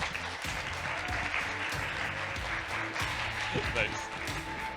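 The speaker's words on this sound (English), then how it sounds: "So please give a round of applause to Adrian for his talk" Audience applause at the close of a talk on Anoma's intent-centric architecture at the BUIDL Asia 2022 conference, a steady wash of clapping with a voice briefly speaking over it.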